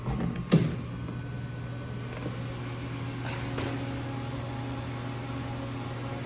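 Steady low electrical hum from a running 750 amp, 9 volt Rapid rectifier, quiet and constant, with a brief clunk near the start.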